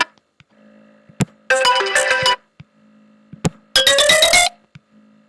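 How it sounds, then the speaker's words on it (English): iOS ringtones play one after another from an iPhone, each a loud bright burst of melodic chimes with quiet gaps and faint clicks between them, no voices. "so these are all iOS ringtones"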